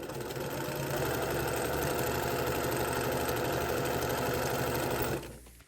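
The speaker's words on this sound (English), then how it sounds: "just keep sewing down the row here until I run out of row 3" A sewing machine stitches a row of pieced quilt blocks, running steadily and continuously at close range for about five seconds before stopping abruptly.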